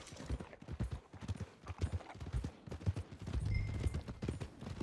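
Horse hooves clip-clop steadily on the ground in Red Dead Redemption 2, a close, rhythmic run of hoofbeats over a low background rumble near stables, with no voices.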